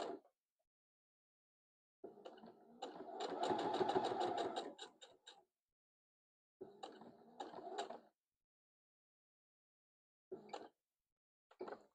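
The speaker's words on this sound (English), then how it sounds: "I'm going to stitch all the way down, stop, kind of pivot" A sewing machine stitches the binding at a quilt corner in short bursts of rapid mechanical clatter, nearby, separated by quiet pauses while the work is pivoted.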